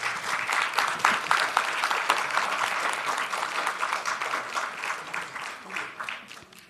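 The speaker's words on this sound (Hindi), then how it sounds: "जोरदार तालियों से स्वागत करिए।" An audience at a literary festival bursts into sustained applause welcoming a poet, dense clapping from a crowd that stays loud for several seconds before easing slightly.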